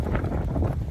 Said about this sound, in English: I don't believe there's a mic on the face of the earth that can compete with these 30-mile-an-hour winds